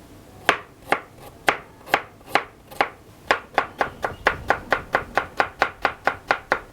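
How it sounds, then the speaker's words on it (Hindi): A knife chops a one-inch piece of ginger on a board in a Rawalpindi dhaba kitchen making dal keema: about twenty close, sharp strikes, slow and spaced at first, then speeding into a quick even rhythm. "तो जब भी आपने अदरक काटनी हो, ये तरीका है जो मैं आपके साथ शेयर कर रहा हूँ।"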